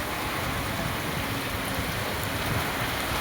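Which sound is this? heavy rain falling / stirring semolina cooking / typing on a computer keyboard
heavy rain falling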